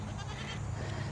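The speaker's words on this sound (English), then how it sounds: "Hi, little goat." A little goat in a backyard garden gives a short, close bleat that fills the whole moment, with no talking.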